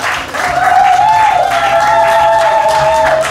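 A debate audience at the ManiFiesta 2019 festival breaks into sustained, loud applause with some cheering, the clapping dense and steady throughout.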